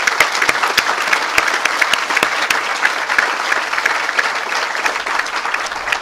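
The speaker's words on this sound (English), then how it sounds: "let's have a round of applause for them as well." Sustained, dense applause from a seated audience honoring students at the dedication ceremony for Duke's marine sciences and conservation genetics center, steady and even throughout with sharp individual claps standing out and no talking.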